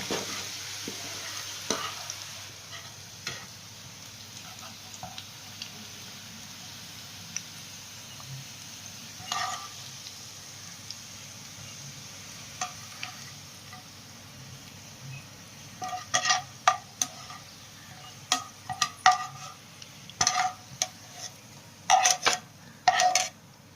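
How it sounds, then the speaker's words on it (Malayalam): Potato stir fry for a Kerala recipe bubbles quietly in a pan while a metal spoon stirs and scoops the pieces out, a low steady sizzle punctuated by clustered scraping clinks that grow busier toward the end. "ഇത് മൂത്തിട്ടുണ്ട്. ഇത് നമുക്കിനി കോരി എടുക്കാം."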